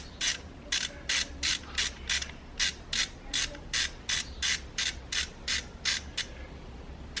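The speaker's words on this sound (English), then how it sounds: "with the T30, you just slide the T30 in, turn it counterclockwise," A T30 Torx tool turns a bolt out on a Golf MK6 GTI while a camshaft position sensor is replaced, giving a steady series of crisp ratchet clicks, about two a second, close and alone.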